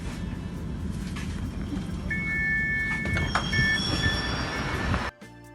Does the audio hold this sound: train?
yes